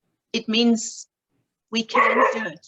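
A pet dog barks in a home during a conversation, two short bursts of barking mixed with a person talking.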